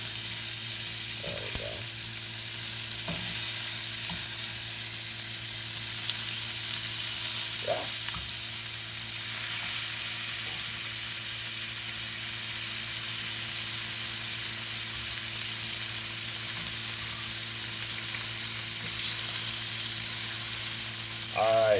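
Bacon sizzles steadily in a frying pan, either cast iron or nonstick, with a continuous broadband hiss and scattered sharp grease pops, close and fairly loud, with a constant low hum underneath and no talking.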